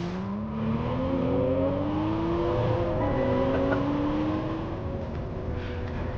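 A BMW M340i engine runs steadily with rising and falling revs, a deep growl layered with tonal whine, close and loud throughout.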